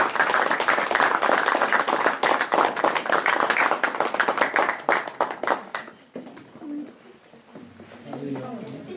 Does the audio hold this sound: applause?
yes